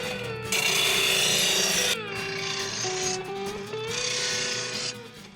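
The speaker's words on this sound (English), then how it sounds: "we usually try to sharpen the blades every 25 hours of grass cutting time" Blades from a John Deere Z540R lawn mower are sharpened, with loud harsh grinding and rasping in two long passes and shorter strokes between them, up close and without talking.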